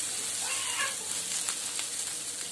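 Fenugreek leaves fry in a pan, giving a faint, steady sizzle and crackle, with light stirring scrapes near the middle.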